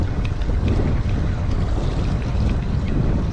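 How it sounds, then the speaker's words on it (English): A fishing boat trolls back into Port Canaveral, giving a steady, close rumble of engine, wind and water rush with no talk. "I'm cruising back into the port."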